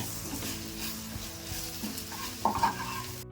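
Okra and potato sabji with dry mango powder being stirred in a pan, a steady scraping sizzle with a couple of louder spoon knocks near the end, close and alone.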